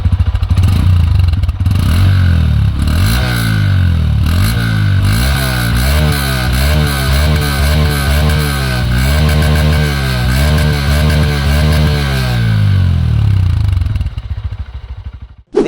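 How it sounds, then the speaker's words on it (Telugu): A Honda CB 125 Hornet motorcycle's exhaust runs close and loud, with a steady idle followed by a series of rising and falling throttle blips, then a fade as the engine cuts. "బైక్ లుక్స్కి తగ్గట్టు ఎగ్జాస్ట్ సౌండ్ కూడా స్పోర్టియర్గా ఉంది"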